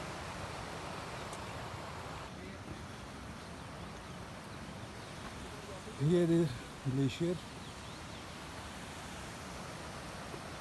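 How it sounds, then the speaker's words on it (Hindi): Glacier meltwater stream pouring out from beneath a glacier on a mountain trek toward Dudipatsar Lake near Naran, a steady broadband rush throughout, with a voice briefly speaking over it near the middle. "ग्लेशियर के नीचे से पानी आ रहा है।"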